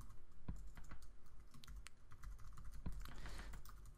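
Rapid typing on a computer keyboard, a steady run of close, crisp key clicks with a few heavier strokes, continuing alone for several seconds while an email is filled in.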